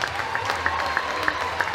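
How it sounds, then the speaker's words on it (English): Steady applause from a gym crowd at a basketball awards presentation, a dense wash of clapping with a few sharper individual claps standing out over a brief stretch. "And keep clapping"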